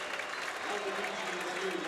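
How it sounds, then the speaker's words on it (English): Crowd applause fills an ice hockey arena at a college game, a continuous wash of clapping at moderate level with faint voices underneath. "A nice round of applause for him"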